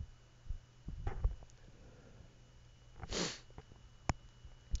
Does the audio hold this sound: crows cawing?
no